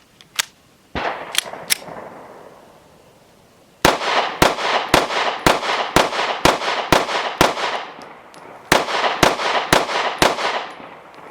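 A Smith & Wesson CSX E-Series micro 9mm pistol fires about seventeen sharp, loud shots outdoors. They come as a few scattered shots, then steady rapid strings with brief pauses, and each report rings off into a short echo.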